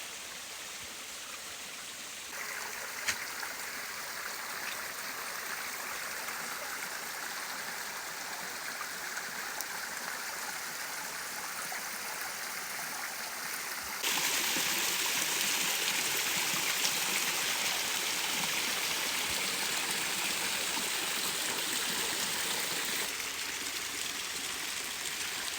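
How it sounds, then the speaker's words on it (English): A creek pours over a waterfall in the Citico Wilderness of Tennessee, a steady broadband rush of falling water that swells noticeably louder midway as the falls draw closer, continuous and nearby with no voices. "Looks like we're coming up on a waterfall here."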